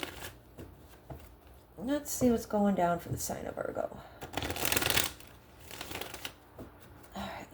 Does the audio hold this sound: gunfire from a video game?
no